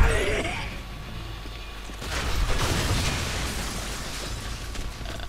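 A game explosion in the shooter Bulletstorm: a broad rumbling burst swells near the two-second mark and lingers as a dense roar over mechanical clatter, loud and close with no talk over it.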